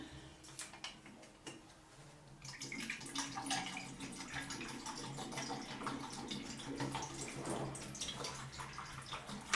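Film developer poured out of a developing tank, a steady splashing liquid flow starting after a couple of quiet seconds and continuing close and fairly loud to the end, with light ticking at the start.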